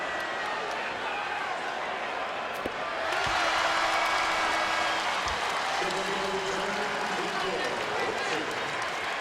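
A basketball arena crowd in a Lakers versus Wizards game rises to its feet, cheering and applauding in a loud, sustained roar that swells partway through, under a commentator's voice.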